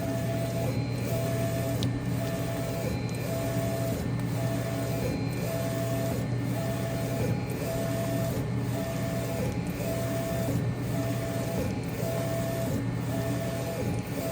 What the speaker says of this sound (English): the printer will start to print it